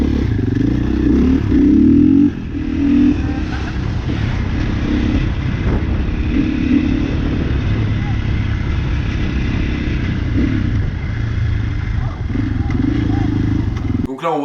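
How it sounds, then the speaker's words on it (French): A farm tractor drives aggressively toward a parked truck in a road-rage confrontation, its steady low engine rumble loud and close throughout, with clattering and a brief engine surge near the start. "Donc là on voit le tracteur qui essaie de foncer sur mon camion."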